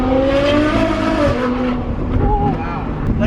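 Ferrari F12 V12 engine roaring from inside the car while driving, a loud sustained tone that rises and falls with shifting pitch, with some background noise under it.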